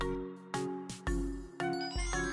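Phone message notification plays as a run of bright chiming tones, several quick jingling dings in a row, clear and close with no voices.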